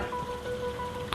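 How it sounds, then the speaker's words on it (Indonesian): Rain falls in a scene from the film Pitch Black on an alien planet, a steady close hiss of drops spread evenly across the short stretch, with a faint tonal hum beneath and a small splash near the end. "Saat Riddick akan dipenggal, hujan pun tiba"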